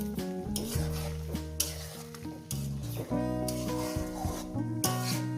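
Spice paste is stir-fried in a pan: continuous close sizzling with scraping stirs against the metal, steady and fairly loud throughout.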